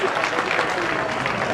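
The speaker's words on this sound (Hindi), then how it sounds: "तालियों के द्वारा स्वागत" Applause welcoming a guest at a college function at Janta Inter College, Thekma Bijauli, Azamgarh: a dense, even wash of many hands clapping together, held steady throughout with no spoken voices.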